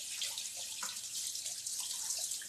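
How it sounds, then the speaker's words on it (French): Steady running tap water splashing over a scraper being rinsed under the faucet, a soft continuous hiss with small drips and splashes. "Juste rincé, voilà, ça j'ai oublié de faire, le racloir."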